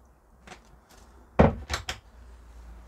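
A sliding door on a camper van shower room rolls along its track and closes with a few light knocks and a firmer thud, close and fairly quiet.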